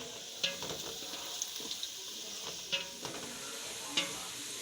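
Onions, masala and green chillies fry in a pot for beef pulao, giving a steady close sizzle with a few sharp scrapes and clinks from stirring scattered through it.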